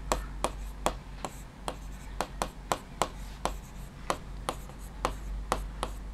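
Chalk tapping and scraping on a classroom board during a Class 10 maths lesson on quadratic equations, a steady series of about fifteen sharp, evenly spaced strokes close up over a low background hum, with no talking.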